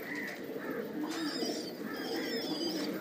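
Pigeons on a rooftop loft cooing softly and repeatedly, with low murmuring calls and a few brighter chirps against quiet outdoor background noise.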